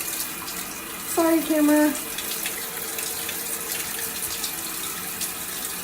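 Running water pours steadily from a tap while baking soda is rinsed out of hair, a continuous close hiss that stays even throughout, with someone speaking briefly over it.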